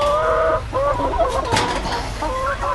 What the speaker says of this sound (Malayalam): കോഴീനെ തന്നെ വനംവകുപ്പുകാർ വന്നിട്ട് കോഴിയാണ് ഇട്ടിരിക്കുന്നത്